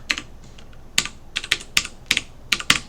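Someone types a command on a computer keyboard, with irregular bursts of sharp key clicks and a couple of louder keystrokes, close and clear, with no talking.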